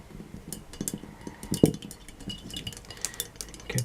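A pale brown tint mixture being stirred in a small container during an upcycling craft: quick light clinks and scrapes of a utensil against the sides, irregular and fairly quiet, with no talk.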